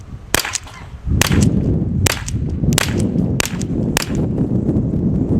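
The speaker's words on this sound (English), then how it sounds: "that's all the shots fired out" A series of sharp gunshots from a .50 caliber HDP self-defence pistol, about six reports at uneven intervals roughly a second apart, each a loud crack over a steady background rumble with no speech.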